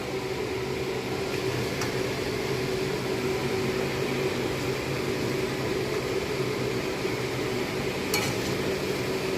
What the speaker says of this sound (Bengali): এগুলো ভালো করে মিশিয়ে নিয়ে একটু নেড়ে চেড়ে নেব